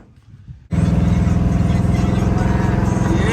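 A 1972 Chevy Impala convertible with an LS engine swap fires up after a quiet moment and settles into a loud, steady, throaty idle that runs close by to the end.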